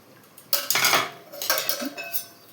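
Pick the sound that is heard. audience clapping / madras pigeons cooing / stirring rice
stirring rice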